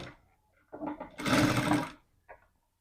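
A sewing machine stitching along the folded edge of a blouse, a short burst of close mechanical whirring lasting about a second, set between brief handling noises in a quiet room.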